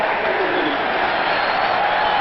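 A Philadelphia football stadium crowd at a 1991 Eagles–Steelers game roars in a dense, sustained wash of cheering, loud and even throughout, with no single voice standing out.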